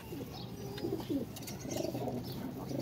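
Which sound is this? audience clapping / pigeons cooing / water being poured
pigeons cooing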